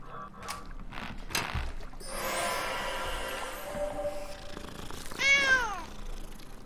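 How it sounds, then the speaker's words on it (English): A cat meows once, clear and close, in the video game Danse Macabre 7: Florentine Elegy, following mechanical clanks and a scraping, grinding passage. "Oh my god, a cat!"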